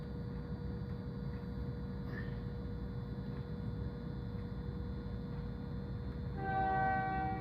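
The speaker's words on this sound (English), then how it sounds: "Y'all can hear that train horn honking?" A train horn blares near the end, heard from inside a truck cab, holding steady tones over a constant low engine rumble. No one speaks.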